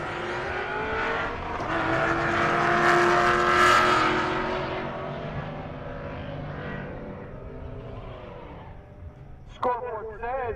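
A stick-shift race car roars at Rocky Mountain Race Week, its engine note swelling loudly, holding, then fading off, with a brief burst of other sound near the end.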